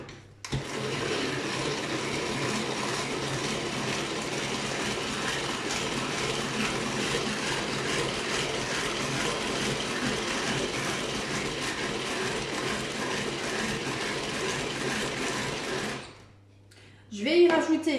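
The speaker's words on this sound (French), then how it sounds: "j'ai mis dans mon Speedy Chef les 3 œufs. Je vais mettre mon sucre roux et je vais déjà mélanger tout ceci." A Speedy Chef mixer blends eggs and brown sugar with a steady, loud mechanical whir that runs almost unbroken before stopping, after which a voice briefly speaks.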